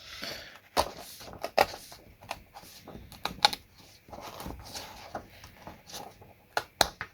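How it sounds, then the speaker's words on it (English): Paper pages being torn from a reverse colouring book, two stuck together, with a string of sharp ripping bursts and crackles at an irregular pace, close and moderately loud. "So I'm trying to tear two out at the same time."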